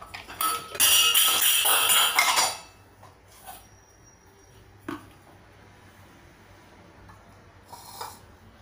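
A metal spoon scrapes and clinks against a pan and bowl while coconut chutney with onion is scooped out, a loud burst of scraping first, then a few sparse, quieter taps.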